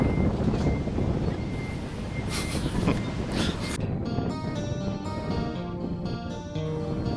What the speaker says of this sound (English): wind up here just came from nowhere and blew my camera over again